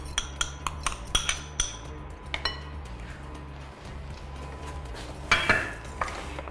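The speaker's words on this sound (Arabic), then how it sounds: "فعم بقدر أحرك فيها منيح" Tahini and yogurt are stirred together in a large bowl, a spoon scraping and clinking against the sides in quick irregular strokes, close by, with a louder scrape near the end.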